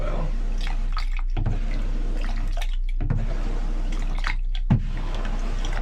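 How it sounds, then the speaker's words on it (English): Antifreeze forced down the shower drain of a camper gurgles and splashes in uneven bursts, with a few sharp drips and knocks, fairly close. "I am going to force all of this antifreeze down into the drain"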